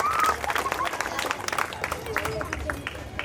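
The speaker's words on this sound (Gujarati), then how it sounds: "એમના માટે પણ એક વખત જોરદાર તાળીઓ થઈ જાય" Crowd at a Navratri garba event in a housing society, clapping and cheering for the donors, a dense wash of applause and chatter at moderate volume that carries on throughout.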